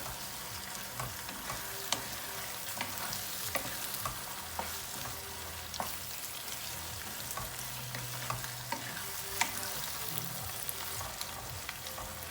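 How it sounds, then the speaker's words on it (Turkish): Grated tomato is stirred into tomato paste frying in a pan, giving a steady low sizzle with scattered scraping clicks from the spoon, close and without any talking. "Hemen burada rendelemiş olduğum domatesimi ilave ediyorum. Bu şekilde de güzelce bir karıştıracağım."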